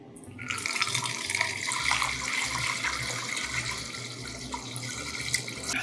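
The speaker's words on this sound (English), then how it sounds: "Just take a funnel and pour everything right on in." A batched White Russian-style cocktail of bourbon, peanut butter and chai is poured through a funnel, giving a steady liquid splashing and trickling stream, fairly close and moderately quiet, with no talk.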